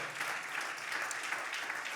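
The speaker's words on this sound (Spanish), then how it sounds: "den un aplauso fuerte al Señor" A church congregation gives the Lord a loud, steady round of applause during a Spanish-language worship service, the dense clapping sustained evenly throughout with no break.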